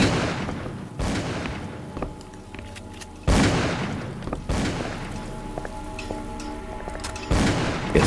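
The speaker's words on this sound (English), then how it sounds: "Keep shooting!" Gunfire in the horror video game Call of Cthulhu: Dark Corners of the Earth: heavy, booming shots roughly every couple of seconds, each with a long noisy decay and ringing tones between, loud and close, with no speech.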